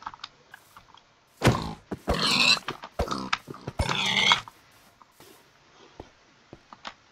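Minecraft pigs let out a few close, short grunting oinks in two clustered bursts, separated by brief quiet and followed by faint clicks.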